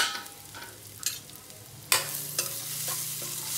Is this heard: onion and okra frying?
yes